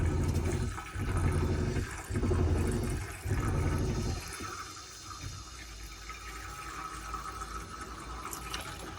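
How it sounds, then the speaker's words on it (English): Water rushes into a domestic boiler fed by an inline pump, loud gushing with a few surging pulses at first, then settling into a quieter steady fill hiss. "So the boiler just filling up with a bit more water basically is what that's doing."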